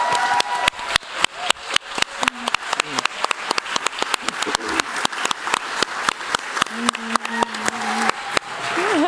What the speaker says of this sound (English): Can I have a warm applause for Munga Hélène Christelle, Gavin Viano